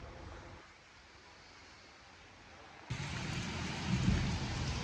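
Rain falls steadily outdoors, starting soft and growing into a louder, denser downpour partway through, with a low rumble that may be distant thunder.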